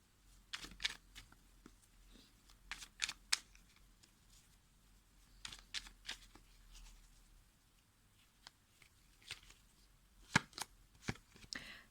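Tarot cards being shuffled and picked, with a series of short crisp flicks and riffles spread irregularly across a quiet room, faint and close, with no voices.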